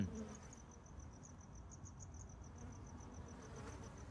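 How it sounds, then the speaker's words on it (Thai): A steady, thin fly buzz in a horror video game, 115 Pizza Delivery, drones on continuously at low volume over a soft background hiss, with no talking. "เสียงแมลงวัน"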